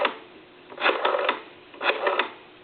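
An old Western Electric 500 rotary telephone dial being turned: two rounds of quick, faint clicking pulses, each a short ratcheting run, separated by a pause.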